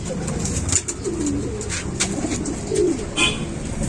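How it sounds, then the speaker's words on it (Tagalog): Racing pigeons cooing up close in a loft, with soft low throaty coos repeated over a constant background rustle and faint higher chirps, and no talking. "Kukunin ko lang mga kalapatid."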